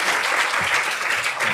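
Audience at a mathematics and numeracy symposium applauding after a talk, a brief, steady burst of many hands clapping, moderately loud with no speech.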